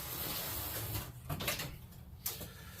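A workshop door is pushed shut with a couple of dull thuds and a scraping clunk, close by, with low shop noise underneath.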